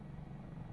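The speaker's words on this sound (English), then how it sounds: "this helicopter flies really easily" A helicopter in a flight simulator game, the Dauphin, flying with a steady low rotor and engine drone, continuous and even throughout.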